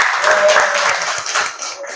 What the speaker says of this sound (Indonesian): Kita kasih aplaus ya